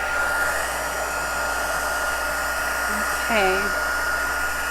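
Heat embossing gun running on setting 2, a steady close blowing whoosh through the whole stretch, with a brief spoken word partway through.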